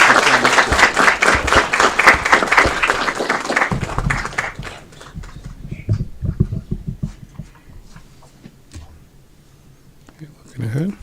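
Audience claps at an Aurora city council committee meeting honouring the Sikh community, a dense burst of applause for about four seconds fading into scattered claps, with a voice speaking near the end.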